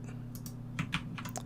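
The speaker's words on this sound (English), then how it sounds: "I'll just hit D on the keyboard to align it" Computer keyboard keys pressed during 3D modelling work in Maya, a quick cluster of close, crisp taps over a steady low hum.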